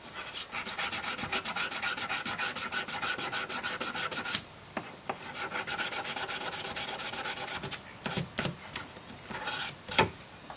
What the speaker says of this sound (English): So I'll just scrub this off so you can see.